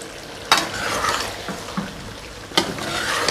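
Tomatoes for Sindhi chicken karahi being stirred while they fry in a karahi, with a continuous sizzle and two sharp scraping clinks of a spoon against the pan, no talking.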